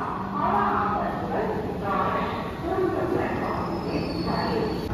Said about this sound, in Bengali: আর জাস্ট ট্রেনটা ঢুকছে।